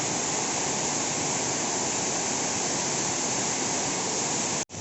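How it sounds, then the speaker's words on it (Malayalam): Water crashing down at Alakapuri waterfall makes a loud, dense, unbroken roar heard close by, with no voices, cut off abruptly near the end. "ഈ വെള്ളച്ചാട്ടം താഴോട്ട് പോകുന്ന ഭാഗമാണേ"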